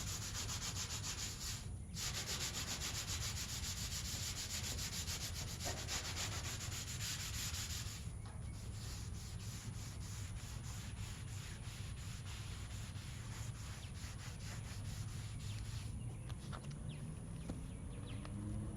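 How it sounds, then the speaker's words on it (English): An abrasive pad scrubs surface rust off the metal of a 1956 Chevy pickup barn find, a steady, even rasping rub that runs unbroken and moderately quiet throughout. "when you get to any of the surface rust, you can flip it over, use the more abrasive side"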